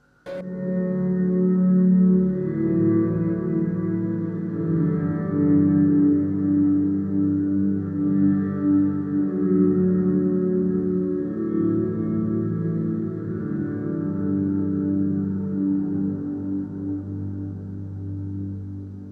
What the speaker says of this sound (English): So with just the reverb in, it sounds something like this.